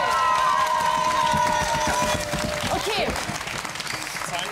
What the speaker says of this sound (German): Ich finde, das ist auch nochmal ein Applaus wert